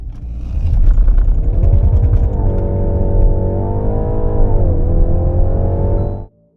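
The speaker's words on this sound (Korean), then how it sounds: "BMW 3302 발진 가속 성능 얼마나 나왔는지 볼까요?" A 2023 BMW 330e plug-in hybrid pulls hard from a standstill on a full battery, its loud, steady engine note rising in pitch through the gears with brief dips at each shift before cutting off abruptly at the end.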